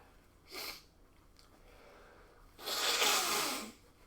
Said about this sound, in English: Don't mean to blow my nose on the video